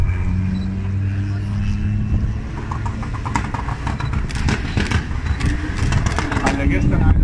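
A tuned 2.5-litre Opel engine making 420 PS roars and revs loudly on an eighth-mile drag strip at Oschersleben, rising in pitch as it accelerates, with a voice talking over it.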